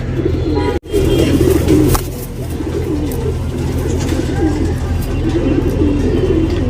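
A male pigeon coos loudly and close in deep, rolling phrases that carry on steadily after a brief cut near the start.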